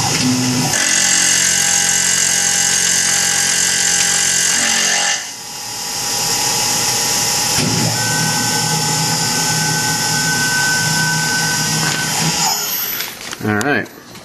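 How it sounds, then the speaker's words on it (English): A Tormach PCNC 1100 CNC mill makes a right-to-left cut, giving a loud, steady high-pitched whine and grind that shifts tone midway and winds down near the end, with someone talking over it. "we're now set up for the right to left cut. And I'll go ahead and do that."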